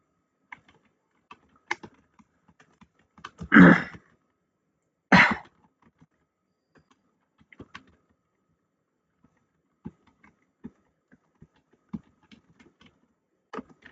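Sparse, scattered keystrokes on a computer keyboard while a design is being made in Photoshop, with a couple of louder bursts of rustling or throat noise partway through and no talking.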